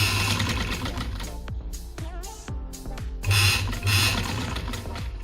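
A sewing machine stitches the neckline of a shirt, running in steady bursts with rapid mechanical clatter and brief pauses between runs, close and fairly loud, with no talking.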